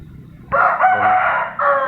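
A Burmese fighting cock, about eleven months old, crows once loudly and close, the call rising sharply and holding steady before a second strained phrase near the end, with no talk over it.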